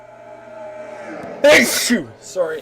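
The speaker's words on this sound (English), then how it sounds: "I have to sneeze, and that's very annoying" A sharp, loud sneeze bursts out after a stretch of talking, followed by a brief apology and a short exhale.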